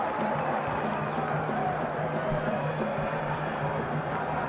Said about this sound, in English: And suddenly the crowd are in it.